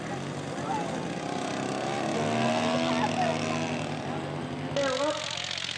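A 25-horsepower scale model aircraft engine runs at full power on takeoff, a steady droning buzz with a shifting whine, loud throughout, with people talking over it.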